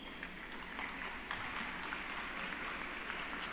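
A panel audience applauds to welcome a speaker, a faint, distant wash of many hands clapping with no clear gaps.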